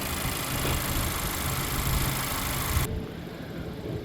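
A 2014 Honda Accord's naturally aspirated 2.4-liter engine idles with a steady, close rumble, then drops abruptly to a quieter, duller hum near the end.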